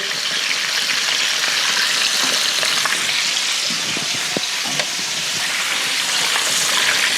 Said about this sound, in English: I always deep fry mine just because I think it's a little easier.